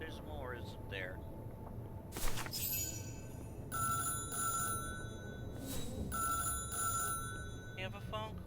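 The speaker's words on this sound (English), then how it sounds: "You have a phone call." Telephone ringing in the video game Syberia: The World Before, repeated electronic ring bursts at steady intervals over faint background music, with a voice speaking briefly at the start.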